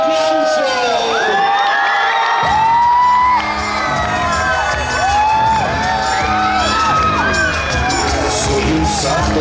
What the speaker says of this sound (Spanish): recibámoslos con una lluvia de aplausos